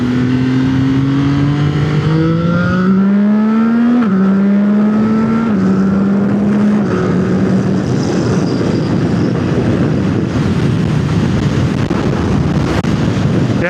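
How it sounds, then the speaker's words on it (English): Heavy highway traffic heard from a moving motorcycle, with engine tones rising and shifting through gears under loud steady wind rush and passing vehicle roar. "Oh my lord, that traffic is crazy!"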